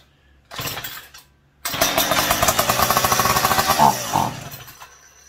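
A McCulloch PM700 chainsaw fitted with a new exhaust pipe gives a short burst of firing, pauses, then starts and runs loudly for a couple of seconds in rapid pulses before dropping off and dying away.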